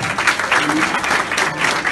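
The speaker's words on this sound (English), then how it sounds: "Another big round of applause for Ejaz." A book launch audience at an authors' conference applauds for the author Ejaz Bhalloo, a dense, steady roar of clapping that stays loud and unbroken throughout.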